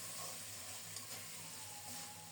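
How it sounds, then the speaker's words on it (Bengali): Spice paste frying in a pan for a muri ghonto dish, giving a steady, faint sizzle with a soft hiss that runs evenly throughout, with no voices. "কি সুন্দর মতো মশলাটা কষানো হয়ে যাচ্ছে।"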